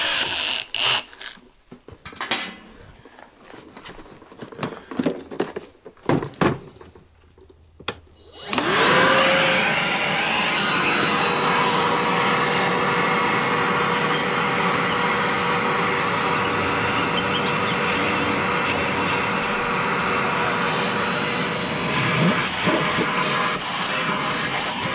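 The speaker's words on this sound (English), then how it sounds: "Vacuum out the panel." A vacuum cleaner roars steadily and loud for most of the stretch while cleaning out an electrical panel during a NEMA 14-50 outlet installation, preceded by several seconds of irregular knocking and handling noises.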